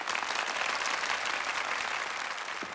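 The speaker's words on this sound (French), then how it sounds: "Je vous demande d'applaudir le père Avalon" An audience applauds Father Avalon, a prison chaplain, with dense, even clapping from many hands that stays loud and sustained from start to finish.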